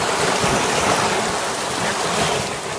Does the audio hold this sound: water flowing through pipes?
yes